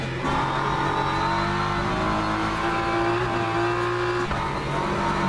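A McLaren race car engine at full throttle at Monza in Le Mans Ultimate, droning steadily and loudly with a sustained high-revving tone and slight pitch shifts, heard on its own with no talking.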